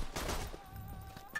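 Gunfire in the video game Borderlands 2, a brief burst of rapid shots close and moderately loud, trailing off over about a second and a half.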